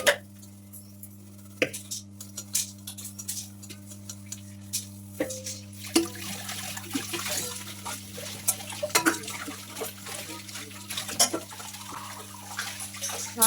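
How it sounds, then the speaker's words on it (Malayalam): Dishes and pots being washed under a running tap in a home kitchen: scattered clinks and clatters of utensils with splashing water, all over a steady low electrical hum. "ഞാൻ പാത്രം കഴുകാണ് കേട്ടോ"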